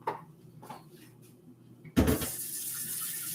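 Water gushing from a kitchen tap into a kettle, starting abruptly after a few soft clinks and running steadily and loudly to the end.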